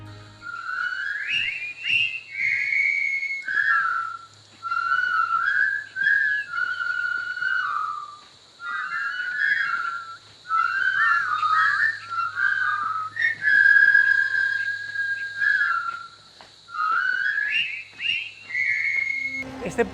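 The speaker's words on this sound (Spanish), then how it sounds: "seguro que conoces el famoso silbido" The famous whistled march from the 1957 film, whistled by one person, lively, bright and steady, with short pauses between phrases and a faint low hum underneath.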